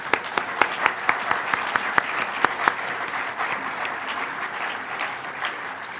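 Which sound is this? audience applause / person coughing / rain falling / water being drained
audience applause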